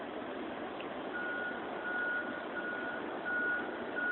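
A truck's reversing alarm beeps repeatedly at a steady interval beneath a constant rumble of engine and outdoor noise, heard from some distance outside a house in Lakeland, Florida.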